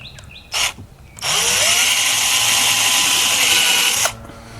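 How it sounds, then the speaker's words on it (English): A power drill pre-drills screw holes near the edge of wood for mounting a caster on a portable chiller. After a short blip, it runs as one steady, high whine for about three seconds, close and loud, then stops. "So I'm going to pre-drill them here."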